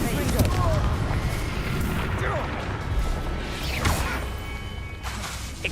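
Hogwarts Legacy spell combat: a Confringo explosive blast erupts amid a dense, continuous wash of crackling impacts and whooshes, loud throughout, with voices calling out during the fight.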